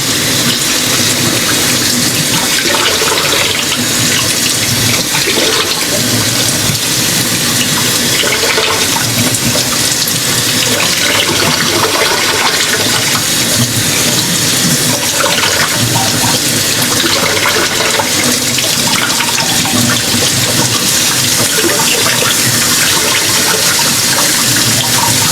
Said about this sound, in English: time to cool her off. Some cold water.